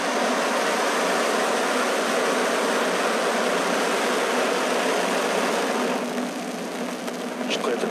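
SpaceX Falcon 9 rocket launch carrying the Saocom-1A satellite, a steady broad roaring rumble heard from a distance, continuous and even throughout with little change.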